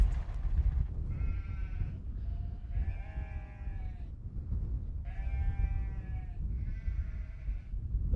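Sheep on a farm with a flock of about 700, bleating several times in a row, some calls overlapping, over a steady low rumble of wind and outdoor noise.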